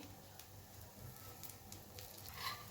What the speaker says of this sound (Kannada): ದೋಸೆಗೆ 1 ಸ್ಪೂನ್ ಆಯಿಲ್ ಹಾಕ್ತಿದ್ದೀನಿ